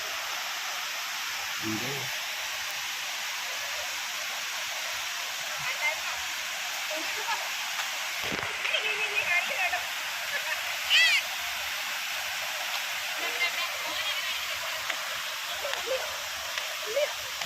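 River water rushing steadily at the Triveni confluence waterfall, where a stream joins, a constant broadband roar throughout with occasional faint voices and brief knocks over it.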